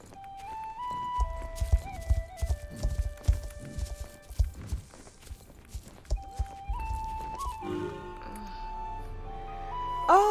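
Video game horse hooves clip-clop in a quick, uneven rhythm amid game music and tones, with a brief whinny-like sound near the end.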